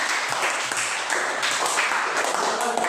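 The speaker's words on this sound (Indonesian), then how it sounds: "beri aplaus dulu untuk kelompok ini" A classroom of students applauds a student group with a brief burst of dense, steady hand clapping.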